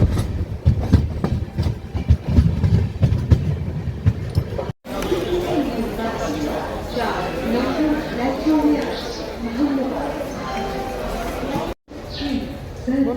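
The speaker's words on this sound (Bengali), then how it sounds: "এই মুহূর্তে ঘড়িতে 9:10 পদাতিক এক্সপ্রেস ঢুকেছে এনজেপি রেল স্টেশনে" The Padatik Express pulls into NJP railway station at night. Close, loud wheel rumble and clatter over the rails comes first, then a steadier carriage hum with voices chattering nearby.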